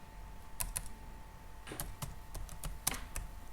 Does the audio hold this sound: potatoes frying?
no